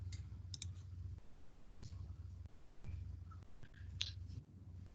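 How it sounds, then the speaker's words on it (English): Rapid irregular clicking of keyboard typing, fairly close, with a steady low hum and faint background noises throughout. "I'm typing up the responses now."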